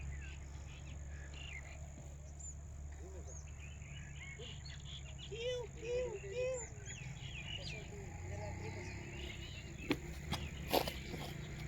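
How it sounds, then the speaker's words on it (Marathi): Scattered bird chirps and short calls rise from a quiet outdoor hum at a hill station near a river, faint and somewhat distant, with a few louder rustles near the end. "चांगला पक्ष्यांचा चिवचिवाट येतोय"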